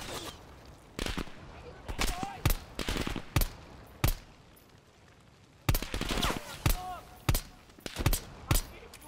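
Gunfire in the Call of Duty: Cold War campaign cracks out in sharp, loud bursts and single shots, spaced irregularly with short pauses between volleys, with faint background game sounds.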